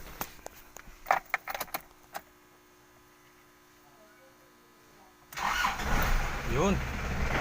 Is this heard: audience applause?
no